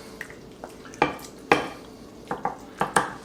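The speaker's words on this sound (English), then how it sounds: "we're going to put about 1/4 of our tomato mixture in the bottom of our pan" Spoon scraping and clinking against a pan as a tomato mixture is spooned into the bottom for enchiladas, a handful of light, sharp clatters spread irregularly over a quiet background with no talking.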